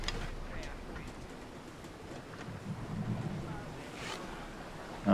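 Ocean water and waves in the video game Assassin's Creed Odyssey make a soft, steady wash and wind-like rush, fairly faint and continuous throughout.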